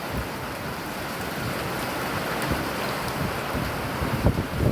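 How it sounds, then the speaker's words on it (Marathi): Dense, steady hiss of rain falling, continuous and fairly loud throughout, with a few heavier gusts or splashes near the end. "पहा माझ्या गावाला कसा पाऊस पडतोय."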